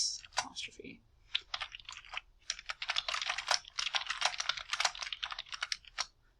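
Rapid typing on a computer keyboard, with dense, quick clicking running in bursts for several seconds, close and moderately loud with brief pauses.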